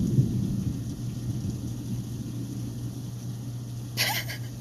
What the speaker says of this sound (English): it looks like it's just thunderstorms